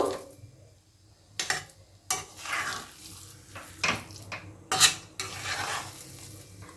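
Potatoes being stir-fried with spices in a pan, irregular bursts of scraping and stirring with a soft sizzle between them, close and fairly quiet, no talking.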